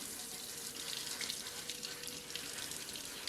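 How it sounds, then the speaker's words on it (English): Cold water runs steadily from a tap into a sink to rinse tomato seeds, a continuous hissing splash that stays even and fairly soft throughout, with no voices. "underneath a cold tap"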